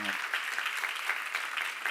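A church congregation at a seminar breaks into applause, a brief, dense patter of clapping hands that carries steadily at moderate volume.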